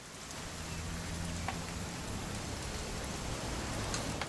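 Steady rain falls in the video game What Remains of Edith Finch, a dense, even hiss that fills the clip from start to end, with faint scattered drops and no talk over it.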